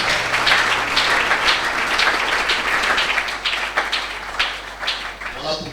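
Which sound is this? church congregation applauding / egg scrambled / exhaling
church congregation applauding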